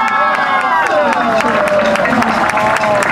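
Loud crowd at an outdoor Juneteenth street festival on Fillmore and O'Farrell in San Francisco, with steady applause and cheering sustained throughout, layered with crowd voices and whoops.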